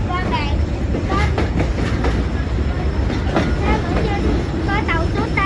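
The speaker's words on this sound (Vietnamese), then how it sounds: "Cái này là tàu đường sắt qua bạn coi" The SE4 passenger train rolls through Bien Hoa station in Vietnam, a loud, steady rumble of wheels clattering over rail joints with repeated squealing, voices faintly audible beneath.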